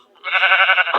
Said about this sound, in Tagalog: may tupa.